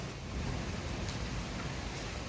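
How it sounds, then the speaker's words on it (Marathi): Continuous unseasonal rain falling outside in a village during a local fair, its force easing slightly: a soft, steady hiss of rainfall heard at low level and fairly distant, unbroken throughout, with no talking. "बाहेर कंटिन्यू पाऊस चालूच आहे, पण थोडासा जोर ओसरलेला आहे"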